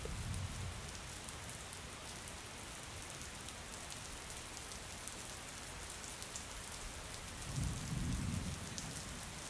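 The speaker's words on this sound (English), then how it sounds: "into the now torrential downpour" A steady, dense hiss of torrential rain pours down without a break, with a low rumble swelling briefly near the end.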